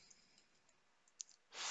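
A computer mouse click on a Create button in a form app: a few faint, quiet clicks, the clearest one sharp and brief near the end, with no talk.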